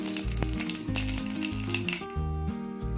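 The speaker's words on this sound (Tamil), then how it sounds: "எண்ணெய் சூடானோன்னு இது போட்டு தாளிச்சிடலாம்." Whole spices crackle and sizzle steadily in hot oil for a green peas kurma, a close, continuous frying hiss with background music playing.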